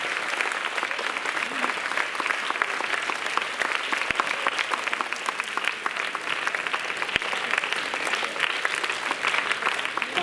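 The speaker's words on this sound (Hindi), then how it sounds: "खड़े होकर महाराज जी का जोरदार तालियों के साथ" A standing audience at a Haryana state dance competition welcoming a guest with dense, sustained applause, loud and steady throughout, with no talk over it.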